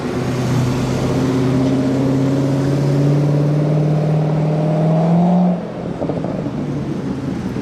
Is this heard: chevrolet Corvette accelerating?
yes